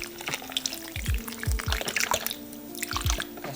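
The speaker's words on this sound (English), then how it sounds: "Then we're gonna add some broth, some beef broth, just to kind of bring it up a little bit." Beef broth poured into a cooking pot with corned beef, a short burst of liquid splashing and trickling with a few distinct drips and glugs, close and moderately quiet.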